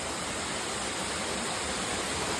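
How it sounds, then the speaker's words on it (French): A waterfall in the Thai jungle gives a steady, dense broadband rush of falling water, constant and fairly near, with no voices over it. "Je chill à côté d'une cascade d'eau"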